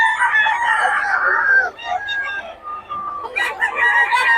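Several chickens cluck and a rooster crows nearby, the calls overlapping in a busy, continuous chorus.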